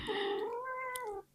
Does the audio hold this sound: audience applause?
no